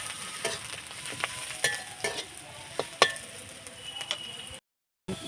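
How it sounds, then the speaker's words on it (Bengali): Shredded cabbage with coriander powder and Kashmiri chilli powder is stirred in a frying pan: a soft sizzle under repeated sharp scrapes and clinks of the spatula, ending in a brief silence. "এখন ভালোভাবে নেড়ে নেব"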